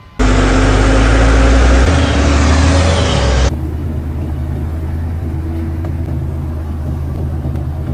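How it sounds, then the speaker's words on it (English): Heavy cargo truck stuck in slippery forest mud, its engine roaring loud and close for about three seconds before dropping abruptly to a lower steady rumble. "A truck was transporting goods through a forest area when, unfortunately, the terrain turned out to be quite slippery and the wheels got stuck in the mud."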